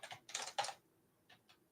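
Quick bursts of keystrokes on a computer keyboard, a short flurry and then two lighter taps, soft and close in a quiet room.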